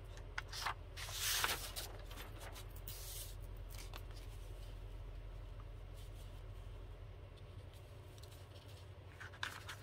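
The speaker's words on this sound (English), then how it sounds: "So now I'm going to glue my piece of my frame, piece of paper down." Paper rustles and crinkles as a paper frame piece is pressed and glued down in a junk journal, with two short handling bursts early on over a steady low room hum.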